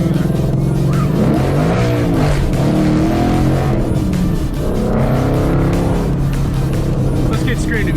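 Exhaust note of a 2014 Mustang GT V8 fitted with a Boss 302 intake manifold, a steady loud rumble that swells as it revs and passes nearby, with some talking partly mixed in.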